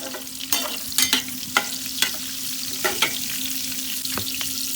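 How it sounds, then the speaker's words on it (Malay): Pandan leaves, lemongrass, cinnamon, cloves, star anise and cardamom sauté in hot oil, a steady sizzle broken by sharp crackles and spatters as a utensil stirs the pan, close and alone. "Daun pandan, serai, kayu manis, bunga cengkeh, bunga lawang, buah pelaga, tumis."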